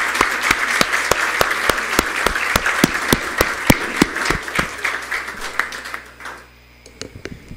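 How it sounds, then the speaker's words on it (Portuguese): A solemn ceremony in Natal granting an honorary citizenship title draws steady audience applause, many hands clapping at once with crisp sharp claps on top, then thinning out to a few final claps at the end. "quero encerrar pedindo uma salva de palmas para o mais novo cidadão natalense"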